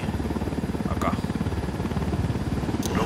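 Supply helicopter in the video game Ghost Recon Wildlands, a loud, close, continuous rotor chop with rapid, steady blade thumping.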